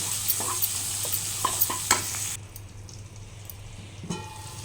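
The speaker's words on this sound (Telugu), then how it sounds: "కాస్త ఉప్పు వేసుకుంటున్నాం బాగా కలిపేసుకున్నాం" Salted onions sizzle steadily in a pan of oil while a spoon stirs them, making clinks and scrapes over the frying; the stirring stops partway and the close sizzle continues alone.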